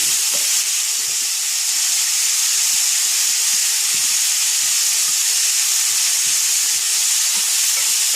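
Mushrooms and vegetables frying in a hot pan give off a loud, continuous sizzle, a dense steady hiss with small crackles scattered through it, close and alone.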